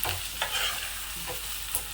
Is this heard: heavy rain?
no